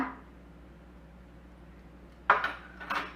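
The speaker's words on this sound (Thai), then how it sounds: "จากนั้นก็ให้คลุก เคล้าด้วยซีอิ๊วดำค่ะ" Wide rice noodles tossed with about a tablespoon of dark soy sauce, a quiet stretch giving way to two close clinks and clatters of a utensil against the dish near the end.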